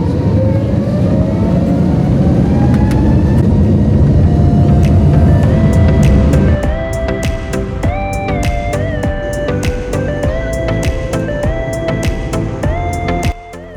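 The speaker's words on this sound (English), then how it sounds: "Before long, we were lined up and cleared for takeoff to Cleveland." A Spirit Airlines airliner rolls for takeoff to Cleveland. A loud, deep engine roar builds and then settles as rising whines and rattly clicks come through the cabin.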